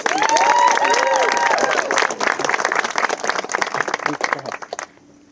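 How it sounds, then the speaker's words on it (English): Wedding ceremony guests applaud warmly, with clapping and some cheering over a voice speaking at first. The applause fades away near the end. "Can we give her a little round of applause?"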